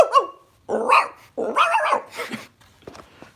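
A voice imitates a dog barking, several short, loud bark-like bursts in a row with brief gaps, close to the microphone, ending in a few softer clipped sounds.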